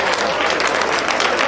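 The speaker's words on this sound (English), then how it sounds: "Let's clap for them" Loud, dense applause from the audience at an engineering society graduate induction ceremony, a sustained crowd clap with no pause across the short stretch.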